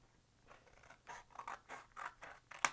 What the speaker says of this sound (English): you're going to cut to the right of the score line